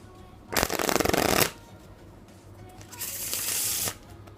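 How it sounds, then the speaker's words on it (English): A Mirage playing card deck is shuffled twice, each burst a dense, close riffling flutter lasting about a second, separated by a short quiet gap. "Let's try and do"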